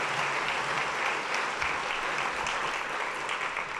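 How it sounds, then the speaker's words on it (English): Audience at the 2011 Spirit of Manatee Awards ceremony applauds in a steady, even wash of clapping that is moderately loud and continuous, without talk. "so please give them a round of applause"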